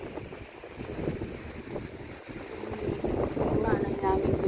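Blustery seaside wind buffets the microphone in a steady low rumble, with water noise beneath and a voice speaking faintly toward the end.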